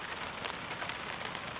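Heavy rain falling steadily on a campsite beside a burning campfire, a dense, even hiss of drops pattering on surfaces, close and continuous with no talk.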